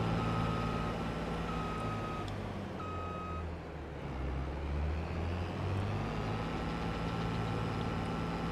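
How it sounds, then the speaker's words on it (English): Vehicle reverse beeper in Farming Simulator 22, an evenly spaced series of high electronic beeps over a low, rumbling truck engine idling steadily. "So you get a reverse beep."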